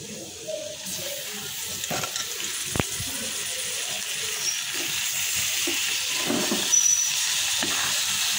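Raw shrimp hits hot oil over lightly browned onion and green chilies, giving a steady, close sizzling hiss broken by a few soft clunks of the pan.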